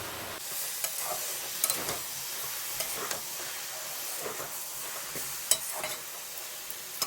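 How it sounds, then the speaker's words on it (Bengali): Cabbage sizzles and crackles in a hot pan, with a steady frying hiss and occasional scraping stirs. "বাঁধাকপিটা একটু সাঁতলে নিয়ে ভাজা গুঁড়ো মশলাটা দিয়ে নামিয়ে দেবো"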